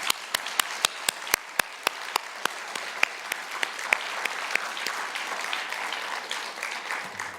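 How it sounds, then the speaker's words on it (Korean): Church congregation at Sunday service breaking into a big round of applause, broad steady clapping from many hands in a reverberant hall with a few sharp individual claps standing out early on. "우리 힘 모아서 크게 박수 한번 하겠습니다"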